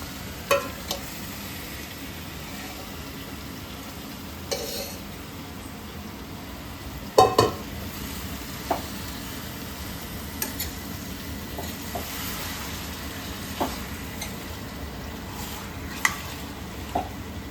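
Chicken curry ingredients fry in a pan with a low, steady sizzle, punctuated by occasional scrapes and knocks of a spoon against the pan.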